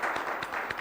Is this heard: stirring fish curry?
no